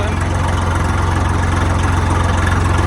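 Swaraj tractor diesel engine running steadily near 900 rpm, a close, loud, even chugging idle with a regular low pulse throughout.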